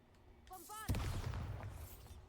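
A Bombarda spell explosion in a Hogwarts video game, brief whooshing tones leading into one heavy boom that rumbles on for over a second.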